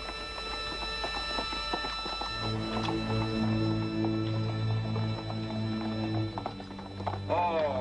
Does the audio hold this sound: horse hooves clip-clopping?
yes